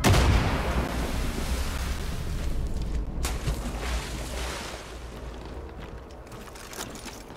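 A grenade blast in Far Cry 5 during a river convoy fight: a heavy boom opens, then a rumbling roar slowly fades over several seconds, with a few sharp cracks.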